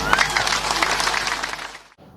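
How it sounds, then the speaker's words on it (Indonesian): A campaign rally crowd in Sabang, Aceh applauds loudly and steadily for Mahfud MD, a vice-presidential candidate, then the clapping stops abruptly near the end. "Oke, terima kasih. Tepuk tangan."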